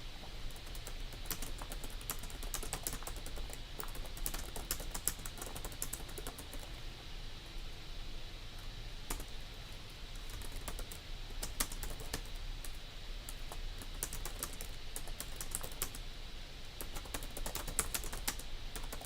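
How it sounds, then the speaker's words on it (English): Steady, close-up typing on a computer keyboard, with rapid irregular key clicks continuing without a break for nearly twenty seconds and no voices. "I'm just typing shit."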